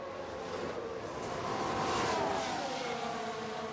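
Formula racing cars, F2 and Formula 1 at the United States Grand Prix, roar past on track as a sustained loud engine wash with a rising and falling pass near the middle, no talk over it.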